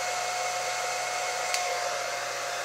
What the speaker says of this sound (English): you want to get a blow dryer that has a cool shot